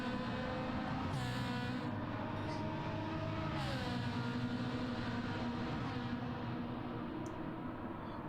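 Race car from team RTR running on track during a CTC 2024 esports race: a steady, loud engine drone with rising and falling revs throughout, no talk.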